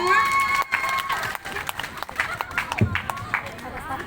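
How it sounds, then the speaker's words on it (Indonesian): Audience applause at a church youth gathering: scattered, uneven clapping and some cheering from a crowd, mixed with voices talking and calling out throughout. "kita tepuk tangan dulu untuk kita semua"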